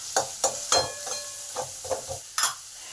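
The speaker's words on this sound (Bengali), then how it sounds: "এবার পেঁয়াজটাকে ভালো করে লাল লাল করে ভেজে নেব" Chopped onion frying in a pan, browning toward red: close, bright sizzling with a series of quick spatula strokes scraping and tapping the pan in an uneven rhythm, no talking.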